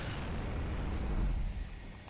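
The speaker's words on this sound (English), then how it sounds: "I'm throwing a grenade there." A deep, rumbling grenade blast from Gears of War 3 on Xbox One fills the clip as a sustained, loud low roar that swells in the middle and then eases off.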